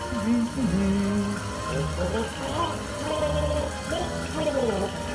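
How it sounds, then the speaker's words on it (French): Water runs continuously through the plumbing from a bath upstairs on the first floor of a restaurant, a steady rushing flow, with a person talking over it. "On a un monsieur qui prend son bain, qui se lave les pieds."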